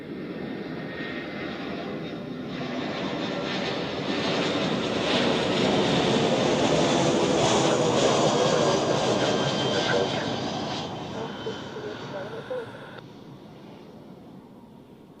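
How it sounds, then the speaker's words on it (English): An Edelweiss Airbus A320 jet arriving from Budapest at Zurich roars steadily, swelling to a loud peak near the middle and easing away toward the end; no voices stand out over the engine noise. "So, here we have an Edelweiss A320, as it looks."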